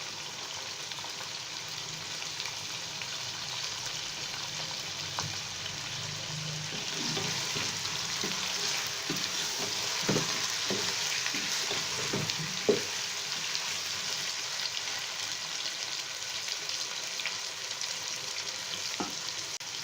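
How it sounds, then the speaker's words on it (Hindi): Chicken frying in a pan for a Lahori chicken pulao, a soft continuous sizzle with intermittent light clicks of stirring in the middle, steady and fairly quiet with no talk. "2 मिनट हो चुके हैं चिकन को फ्राई करते हुए"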